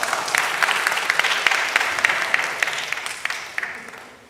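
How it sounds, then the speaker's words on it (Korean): A Sunday worship congregation breaks into applause, a dense burst of many hands clapping with a few louder claps standing out, fading away over about four seconds. "우리 박수 한번 좀 쳐주십시다"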